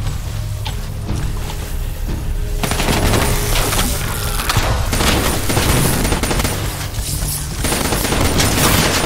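Dense gunfire from the Call of Duty Black Ops 3 video game: sustained automatic bursts and booming shots, loud and continuous throughout with no break.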